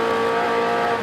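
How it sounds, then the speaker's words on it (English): A race car engine at the 1993 Bathurst 1000, a loud, steady, high-revving whine held at near-constant pitch for about a second, close and alone. "Good sounding engine."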